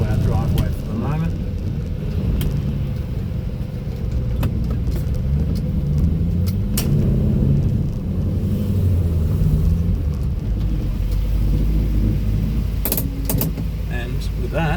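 An MG Magnette ZB V8 Coupe pulled into a driveway, its V8 giving a steady, close, low rumble at low speed throughout, with occasional clicks and knocks and a voice faintly present.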